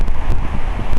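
Strong November wind buffets the microphone in rough, rumbling gusts, loud and close, with no other sounds standing out.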